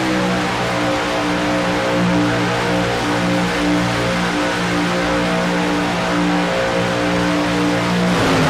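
Racing truck engines in a sim racing video game drone loudly and steadily, with layered harmonic tones as several trucks run together and no voices.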